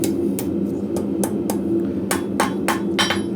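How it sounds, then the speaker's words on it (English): Hammer striking hot steel on an anvil while forging a curl for a leather scribe, a steady run of sharp ringing blows at an irregular pace, close and clear over a constant background hum, with no talk. "make slight light blows off the anvil"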